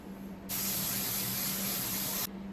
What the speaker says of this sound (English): Rinse this underwater until it runs clear.